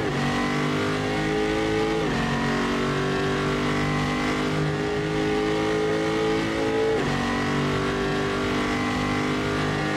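Corvette race car in Assetto Corsa at Road Atlanta, engine droning loud and steady as it pulls hard down a long straight, with two upshifts breaking the rising tone.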